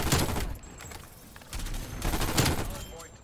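Bursts of Vargo 52 rifle fire in Call of Duty Cold War crackle in rapid volleys, loud and close, separated by a brief lull with faint in-game ambience.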